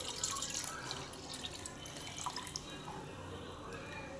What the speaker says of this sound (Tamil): இளநீரையும் சூப்பராக ஊற்றிக்கலாம்